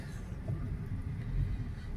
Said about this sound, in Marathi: हे बघा मित्रांनो, आता शास्त्रीनगरचं ट्रॅफिक